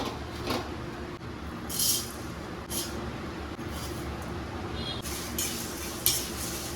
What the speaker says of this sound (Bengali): মশলাটা এবার ভাজা বসাবো